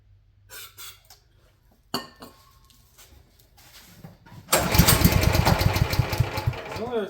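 A Champion portable generator being started after sitting unused for years: a few quiet knocks and pulls, then the engine catches and runs loudly with a rough, steady rumble.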